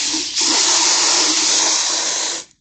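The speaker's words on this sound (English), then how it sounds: "I'll spray the water into the pitcher," A garden hose sprays water into a pitcher in one steady, loud rushing hiss that lasts about two seconds and then cuts off abruptly.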